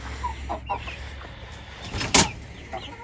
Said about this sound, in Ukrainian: на ту курку, що зверху то кричала несамовито.